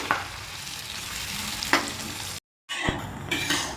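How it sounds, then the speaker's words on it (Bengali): Onions browning with bay leaf and cardamom in a pan for chicken kosha, a steady close sizzle broken by scraping stirs, with a brief silent gap before frying resumes. "দিয়ে দেবো পেঁয়াজ, খুব ভালো করে ব্রাউন করে নেব"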